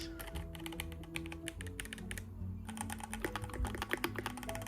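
Keys on a Keychron Q1 75% mechanical keyboard are typed in quick, irregular bursts of close, crisp clicks and clacks, with faint tonal music underneath and no speech.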